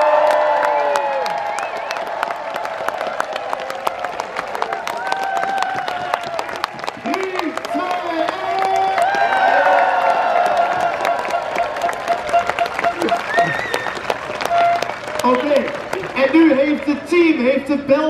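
Studio audience applauding and cheering enthusiastically with whoops and shouts, a dense sustained roar of clapping with voices mixed in, steady and loud throughout.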